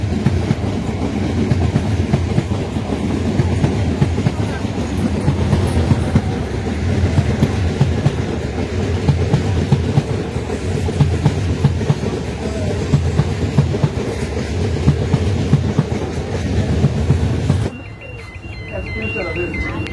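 The Teesta Torsa Express runs through Azimganj without stopping, giving a loud, continuous rumble with rhythmic wheel clatter heard from on board, under a voice, before the sound drops abruptly near the end.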